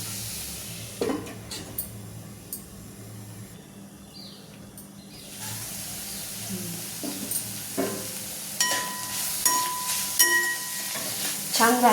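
Radish pods (dingri) with crushed peanut powder and coriander cook in a pan, giving a soft, steady sizzle with occasional scraping stir clicks and some faint tonal chirps in the background.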